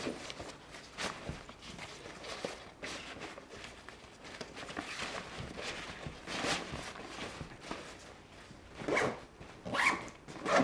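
Zipper of a PGYTECH OnePro camera backpack being pulled closed, a few rustling zip strokes up close with handling noise, louder bursts near the end.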